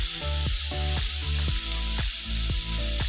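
Ginger sizzles steadily in hot oil in a pan while cooking a topping for plantain pizza, a loud continuous fry broken by regular clinks of a utensil against the pan.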